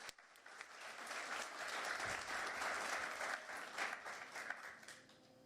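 An audience at a civic State of the City event applauds, a steady wash of clapping from many hands that holds for several seconds, heard at a distance.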